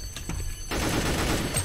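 Gunfire in the Roblox game Mad City starts with a few scattered shots, then breaks into a dense, loud, continuous burst of rapid fire that runs to the end.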